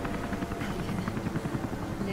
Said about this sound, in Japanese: なんかヘリコプターの音がしますね。